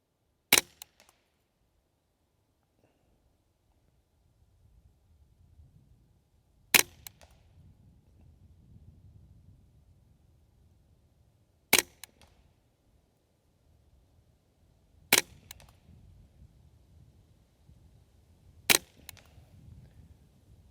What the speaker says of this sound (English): we're gonna shoot for groups here